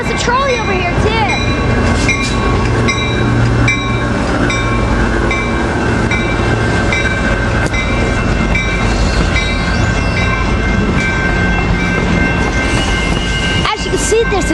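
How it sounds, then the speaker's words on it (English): A 2-car Green Line trolley passes in San Diego, loud and close, with continuous rumbling and clattering wheels and high squealing tones throughout. "As you can see, there's a 2-car Green Line Trolley."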